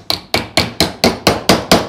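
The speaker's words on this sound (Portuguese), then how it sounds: "vem entortando ela e vem batendo de leve com o martelo." A hammer taps a metal strip being bent into a handle for a wooden chest, seven evenly spaced, bright metallic knocks struck close and fairly loud, one every quarter second.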